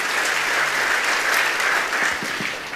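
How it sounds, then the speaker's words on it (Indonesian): A church congregation gives a round of applause during a worship service, a dense, sustained clapping from many hands that fades slightly toward the end. "Beri tepuk tangan untuk kebenaran ini."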